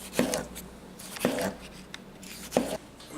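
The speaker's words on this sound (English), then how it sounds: "Now we're just gonna do some nice thin slices, nice and uniform." Knife cutting thin, uniform slices for a Bloody Mary salad: three distinct, close chops spaced roughly a second apart, each a short crisp thud against the board.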